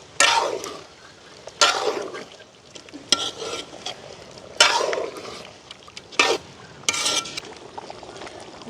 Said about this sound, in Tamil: அப்படியே கலந்து விடுவோம்